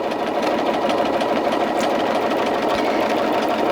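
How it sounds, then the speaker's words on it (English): A sewing machine stitches steadily along a curve on a quilt, a continuous even whir with a quick mechanical pulse throughout, close and alone without talk. "Just continue on stitching on that curve."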